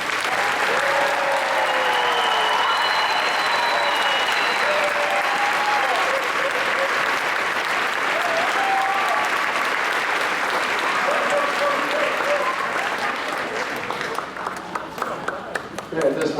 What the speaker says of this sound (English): Let's please give our students one more round of applause.